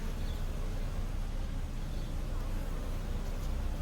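Honeybees crowd the entrance of a hive as they bring in pollen, a steady, dense buzzing hum that holds evenly throughout with no talk.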